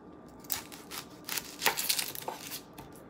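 Kitchen knife cutting up an onion on a board for a cauliflower salad and pesto chicken meal: a series of crisp, close chopping strokes in irregular rhythm, moderately quiet, with no talk.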